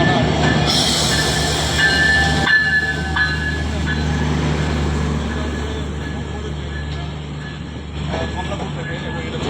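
The Madhumati passenger train at Talma railway station in Faridpur rumbles past close by, loud and steady, with metallic wheel squeals and clanking over the track while a voice talks over the noise.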